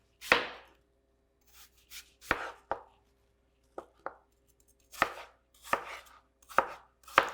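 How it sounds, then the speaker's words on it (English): A knife chops an apple into small cubes on a cutting board, giving a series of crisp, close, irregular knocks spaced across several seconds with quiet gaps between them. "Cut your apple into equal size cubes."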